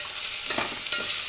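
Green chillies frying in oil as they are stirred in a pan, a steady loud sizzle broken by a couple of light scraping stirs.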